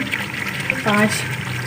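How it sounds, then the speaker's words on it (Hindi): Boiled water being poured into roasted chicken for pulao, a short splashing pour that swells near the middle, heard close and fairly loud. "अब मैं इसमें पानी ऐड करूँगी"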